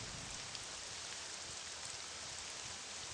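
Steady rainfall in The Elder Scrolls III: Morrowind (modded), a continuous even hiss of drops pattering on surfaces, fairly faint and unbroken throughout, with no voices.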